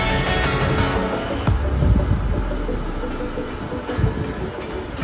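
A train rolls through Ernakulam Town railway station with a loud, continuous rumble and clattering wheels that stay close and steady throughout.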